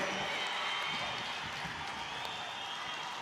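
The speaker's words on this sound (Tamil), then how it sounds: "இந்த பனிரெண்டு தீர்மானங்களையும் என் உயிரின் உயிரான விடுதலை சிறுத்தைகளே கைகளை தட்டி ஆரவாரம் செய்து நிறைவேற்றி தருமாறு உங்களை மெத்த பணிவோடு கேட்டுக்கொள்கிறேன்" Crowd at a VCK party conference applauding and cheering to pass resolutions, a steady dense roar of clapping and voices held at an even level throughout.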